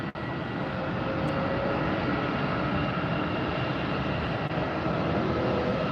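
A jet airliner departing Tampa Airport roars steadily and loudly with a faint tonal whine above the broad rumble, sustained without a break after a brief knock at the start.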